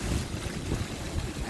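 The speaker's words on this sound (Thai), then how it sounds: "เป็นน้ำตกนะคะ" Water pours from the brass, gold-and-black waterfall spout of a whirlpool bathtub, a close, steady broadband rush that lasts the whole second and a half with no voices.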